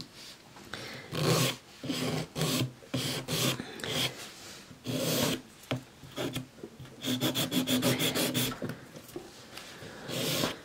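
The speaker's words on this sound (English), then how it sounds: "So really old 180 grit nail file, which I use all the time." An old 180-grit nail file rasps across a gum gel nail in close, short rubbing strokes, some slower and spaced out, ending in a quick run of rapid back-and-forth passes.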